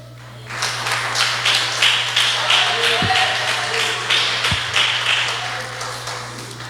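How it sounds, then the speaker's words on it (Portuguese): Church congregation applauding during a worship service, a dense steady patter of many hands clapping throughout, with a low constant hum underneath and a couple of sharper thumps. "Se assenta e aplaude a Jesus."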